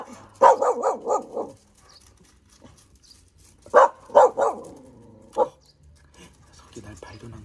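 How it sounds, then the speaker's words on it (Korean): A dog indoors gives two bursts of loud, close barks, four or five quick barks and then three or four more, with quiet gaps between and a softer bark near the end. "너 뭐 보고 짖는 거니?"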